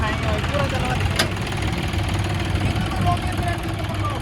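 A brand-new 2023 John Deere 5042 D tractor sits at a steady idle, its low diesel throb close and continuous with no revving.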